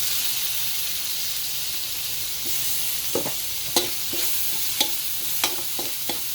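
Onion and tomato sautéing in oil in a pan for pakbet, a steady sizzle with a few scrapes and taps of a spatula stirring, close and alone without talk.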